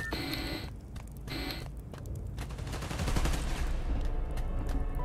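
Gunfire in the Spider-Man Miles Morales video game on PC, with rapid bursts of shots alongside electronic beeps and tones at moderate volume, no voices.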